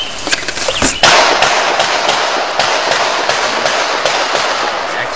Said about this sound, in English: I'm going to do 5 slow fire rounds to see how the trigger figures